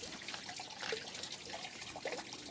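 Water runs steadily through gold sluice trays, a continuous close trickling and splashing flow with a constant hiss and no talk.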